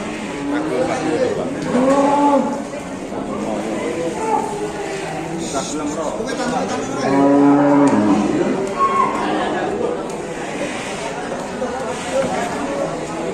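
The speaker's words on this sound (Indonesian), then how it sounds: "Sapi betina ternyata sangat beringas sekali ya kalau ngamuk ya" Cows, including an enraged cow, low and bellow loudly several times amid agitated people talking and shouting nearby, with occasional hoof scuffles.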